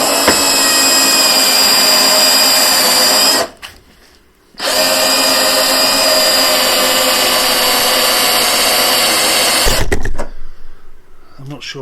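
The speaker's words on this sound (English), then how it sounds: "So we're going to drill a hole." A battery drill whines loudly and steadily while boring a hole into the bodywork of a crashed salvage Fiat 500, stopping briefly for about a second before running on again, then cutting off.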